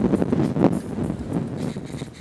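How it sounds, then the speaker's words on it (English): Wind blows outdoors on a windy day, buffeting the microphone in a loud, continuous low rumble that swells and eases without any voices. "It's a windy day."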